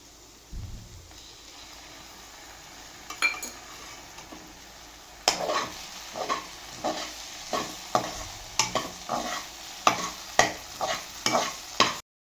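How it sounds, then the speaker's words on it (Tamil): Ginger garlic paste sautéing in a pan for a fried chicken gravy: a steady sizzle with a burst of loud stirring scrapes and clinks of a utensil against the pan, recurring rhythmically. "இஞ்சி பூண்டு பேஸ்ட்டை பச்சை வாசனை போகிற வரைக்கும் அரைச்சா வதக்கிக்காச்சு."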